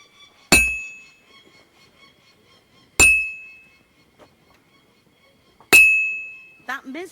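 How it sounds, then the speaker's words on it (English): Three loud, evenly spaced church bell strikes ring out in Kingdom Come: Deliverance II, each a sharp clang with a long fading tail, followed by a brief burst of voice at the end. "The first bell. Another 11 to go."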